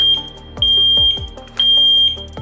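An EL-SD2003 Wi-Fi smoke detector, powered by two AAA batteries, sounds its test alarm in loud, piercing beeps that repeat about once a second, close by and with no voices over them.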